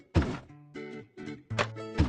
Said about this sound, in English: Pick up all the junk with pliers.